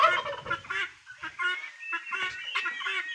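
Repeated harsh, rattling bird calls in quick bursts, fairly close and loud, with no talking; the chattering cries of a male guinea fowl.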